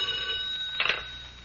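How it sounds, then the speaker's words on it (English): A telephone bell rings as a sound effect in a classic NBC police radio drama, a sharp, bright electric ring rising out of a steady hum in a short burst, near and fairly loud, with no voices. "when the phone rang"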